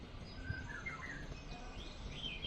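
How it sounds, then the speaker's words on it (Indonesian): Birds chirping outside a house by a front-yard vegetable garden, faint scattered tweets and short calls in the distance over quiet outdoor ambience. "hanya ada suara burung-burung berkicau"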